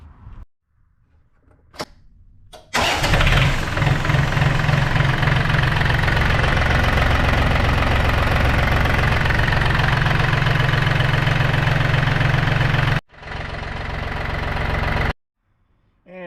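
A John Deere engine cranks a few times, then catches and settles into a loud, steady idle with a deep rumbling drone, before the engine cuts out and briefly restarts.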